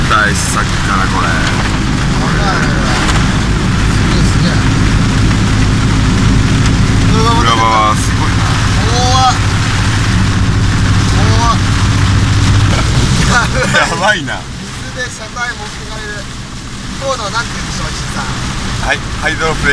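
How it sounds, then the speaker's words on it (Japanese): Heavy rain pounds a car driving along a flooded road, making a dense, loud hiss with splashing and low rumbles. People talk inside the car over the steady downpour. "何この雨おかしいんじゃないの"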